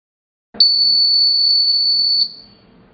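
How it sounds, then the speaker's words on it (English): A steady high-pitched electronic buzzer on a GSM energy meter reader beeps once and holds for nearly two seconds before cutting off, loud and close. "the consumer is informed by a buzzer"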